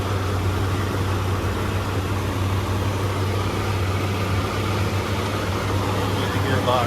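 A 1977 Chevy Silverado truck engine running in a steady, even drone close by, with a low hum and no revving throughout.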